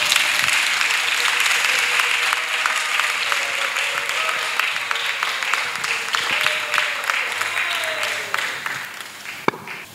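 A church congregation at a French-speaking worship gathering breaks into loud, sustained applause, dense clapping that carries for the whole stretch and fades slightly near the end.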